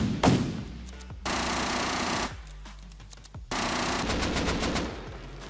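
Video game gunfire blasting through reinforced window bars, with two long, loud bursts of rapid automatic fire and a short pause between them.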